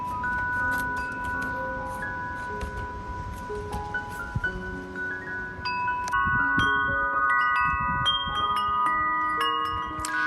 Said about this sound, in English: Sorry for the loud wind chimes.